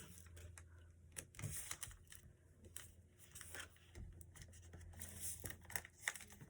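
Crisp crinkling and creasing of a paper sheet being folded in half for a paper plane, a series of close, quiet rustles and sharp crackles spread across several seconds.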